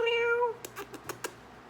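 A pet cat gives one clear, drawn-out meow nearby, followed by a few soft, quick tapping or padding sounds in a quiet room.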